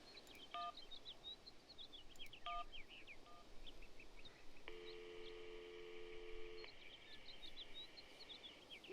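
Telephone number dialed in the adventure video game Syberia: several clear touch-tone beeps followed by a longer steady tone, with soft chirping ambience in the background.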